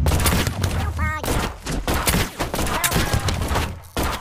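Gunfire from the Gumslinger video game crackles in dense bursts throughout, mixed with game effects while a player talks excitedly over it.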